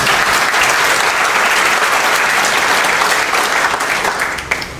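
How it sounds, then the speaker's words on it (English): Sustained, loud audience applause fills a community forum hall for about five seconds, a dense steady wash of many hands clapping with no speech, tapering slightly at the end. "give yourself a clap for that"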